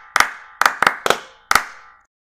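Five sharp, separate claps ring out in an uneven rhythm for a student in a cartoon classroom, each crisp hit trailing off briefly before a clean silence at the end.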